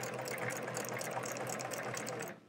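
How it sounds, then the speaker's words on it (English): A sewing machine stitches in the ditch on a hedgehog quilt, a steady fast mechanical whirring hum with rapid needle ticks, running close and continuous before stopping abruptly near the end. "I'm just going to stitch in the ditch."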